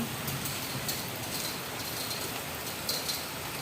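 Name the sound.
heavy rain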